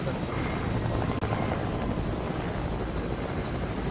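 A video game helicopter's rotor drones loudly and continuously, a thick whirring roar with no break.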